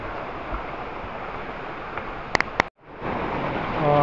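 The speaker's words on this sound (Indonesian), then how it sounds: "Nah, ini sungai kawan-kawan." Steady broadband rush of a river flowing near a large polypipe by a paddy field, continuous and fairly loud, with a few brief clicks and a short gap before the water noise resumes.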